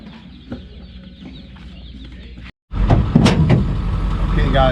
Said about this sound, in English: They got all kinds of chickens, hens, roosters